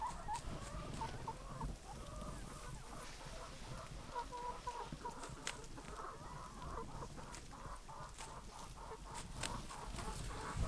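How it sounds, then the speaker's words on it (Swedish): Free-range laying hens grazing on green pasture beside a mobile egg house, with steady soft clucking from the flock over a faint outdoor background, with no talking. "Men här går våra höns ute på grönbete."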